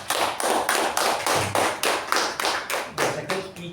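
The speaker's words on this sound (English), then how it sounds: "Let's give them a round of applause." Applause at a Toastmasters club meeting, heard as a steady series of evenly spaced claps, about a dozen sharp beats at moderate volume with no talking.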